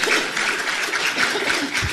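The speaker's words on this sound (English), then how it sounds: "A round of applause again for these amazing," Audience clapping for a panel at a literacy education event, a loud, dense, continuous round of applause close by.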